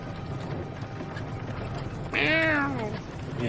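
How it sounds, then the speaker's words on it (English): One drawn-out, wavering cat meow rises for about a second over a steady background hum, distant and moderately loud, with no other calls. "Yeah, you can hear the cat meowing in the distance."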